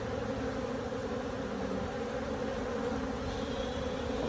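Steady, dense buzzing of honeybees at a straw skep hive, a continuous close hum with no pauses.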